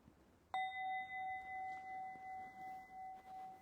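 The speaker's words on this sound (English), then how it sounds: "As you hear the sound of the bell, the third time" A meditation bell is struck once, ringing out clear and sustained, its tone slowly decaying with gentle pulsing over several seconds in a quiet room.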